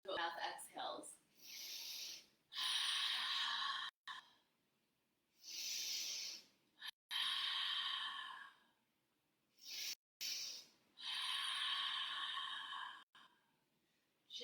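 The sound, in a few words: mouth exhales during yoga breathing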